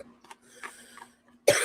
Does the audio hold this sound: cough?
yes